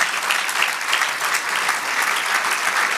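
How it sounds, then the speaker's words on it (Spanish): A church congregation gives sustained, even applause to the Lord during a sermon, loud and continuous throughout. "Dale otro aplauso al Señor"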